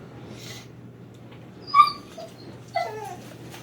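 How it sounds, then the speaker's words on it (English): A curious pet dog whimpers nearby in a quiet room, giving two short, high whining yips about a second apart over a faint steady hum. "My dog's just curious."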